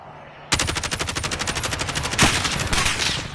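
Automatic gunfire in a video game erupts suddenly after a brief lull, a loud, rapid, evenly spaced stream of shots lasting about three seconds with a heavier blast partway through.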